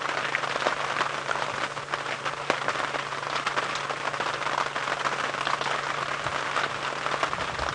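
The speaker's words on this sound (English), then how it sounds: "he's not happy about the rain at all" Steady rain pattering on surfaces during an evening safari drive in the African bush, a dense continuous hiss with scattered louder drops and a low hum beneath, no voices.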